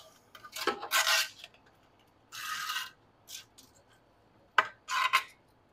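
Plastic support material being peeled by hand off a 3D-printed Milwaukee Packout organizer insert, heard as several short, quiet crackling and scraping bursts separated by pauses, with no talking.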